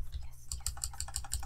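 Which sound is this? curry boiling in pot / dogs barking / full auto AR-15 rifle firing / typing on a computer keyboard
typing on a computer keyboard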